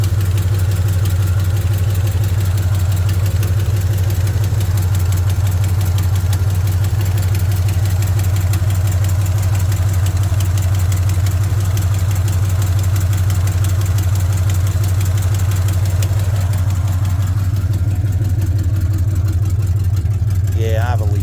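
A 1984 Chevrolet C10 truck engine with a leak idles loudly and steadily up close, a constant low rumbling drone that never changes pace.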